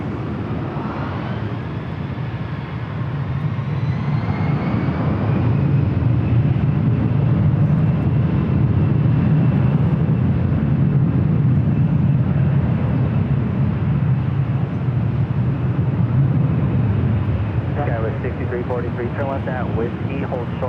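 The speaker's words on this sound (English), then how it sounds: "This Delta A320 taking off to Dallas Fort Worth, flight 420." A Delta A320 airliner takes off at LAX bound for Dallas Fort Worth, its jet engines a loud, sustained roar that builds after a few seconds and holds steady, with faint chirpy sounds near the end.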